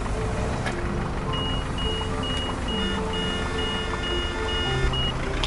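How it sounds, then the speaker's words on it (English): A weak, thin forklift horn in the game Hypermarket Billionaire chirps in short, repeated electronic tones, faint above a steady engine rumble and background hum. "that horn just sounds like somebody's cell phone going off"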